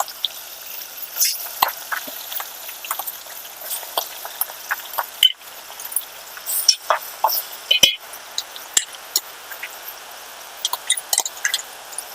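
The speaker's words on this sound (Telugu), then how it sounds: "నేను ఈ ఆనియన్ పేస్ట్ వేసిస్తున్నా అండి" Onion paste goes into a simmering bottle gourd curry, giving faint bubbling, sizzling and scattered stirring clicks at a steady low level.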